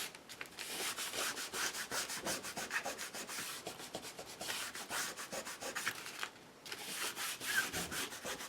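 A Stabilo pencil rubs along the cut edges of watercolor paper in quick repeated strokes, making a dry, close scratching sound that pauses briefly partway through.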